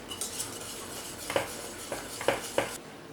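Vanilla essence is stirred into a cake mixture, a soft continuous swish with three or four light clinks of a utensil on the bowl, close and with no talking.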